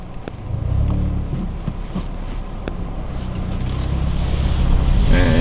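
Hyundai Veloster N with N Sport Custom mode on a test drive from a dealership, its engine running loud and steady with a rising roar, wind rushing past and road rumble underneath.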